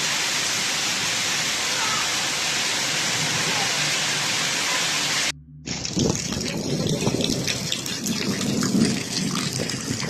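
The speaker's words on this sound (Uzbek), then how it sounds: "Do'l, yozning o'rtasida yog'gan do'l." Midsummer hailstorm with thunder, a dense roaring downpour of hail and rain drumming steadily, then after a brief cut a rougher, gustier patter with rumbling under it.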